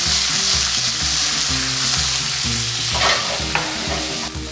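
A hot pan used for BBQ tofu is deglazed with a splash of Dragoon Brewery beer from Tucson, sending up a loud, continuous sizzle and fry with a low rhythmic hum underneath and brief stirring scrapes.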